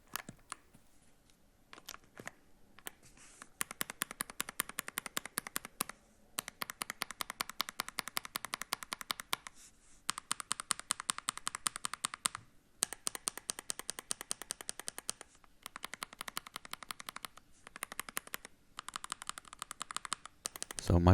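Crisp, rapid key presses on Wooting Lekker V2 Hall effect switches, typed in several steady bursts separated by brief pauses, close and clear with no talking.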